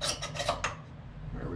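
A wrench torques the wheel bolts on a BMW R1250GSA motorcycle, making a quick run of four or five metallic clicks and ratchet scrapes close by, then a faint low hum with no talk.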